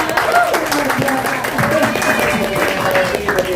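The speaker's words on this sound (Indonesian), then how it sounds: "Ya, tepuk tangan lu dong." Audience applause at a VIU Original Series event, a dense clapping wash running beneath a speaking voice from start to finish.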